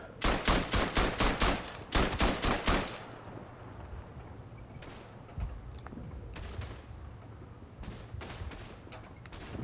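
Rifle fire in the World War I video game Verdun: a rapid string of sharp, loud shots in quick bursts over the first three seconds, then scattered single cracks, some fainter and farther off, against a low rumbling backdrop.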